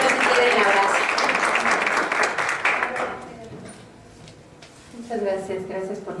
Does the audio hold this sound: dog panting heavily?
no